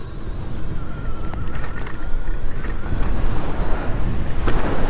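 A Dualtron Compact electric scooter riding on the road in its second mode, heard as heavy, roaring wind rush and road noise that builds slightly in loudness, with no talk.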